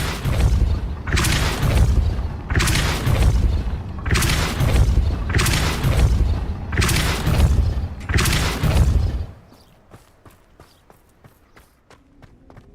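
Depulso force-push spell cast repeatedly in Hogwarts Legacy: six loud, booming bursts at an even pace, each a heavy whoosh and thud. They are followed by a quieter stretch of faint clicks and ambience.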